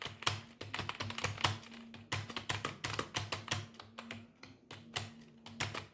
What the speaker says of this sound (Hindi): पूरा मतलब सारी उंगलियों से टाइपिंग करनी है